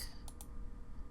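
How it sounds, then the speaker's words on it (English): Computer mouse right-clicking on a histogram in statistics software: two quick, light clicks close together over a quiet room hum. "I will click on it, right click"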